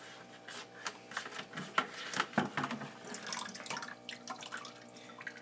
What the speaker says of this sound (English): There's a water pump.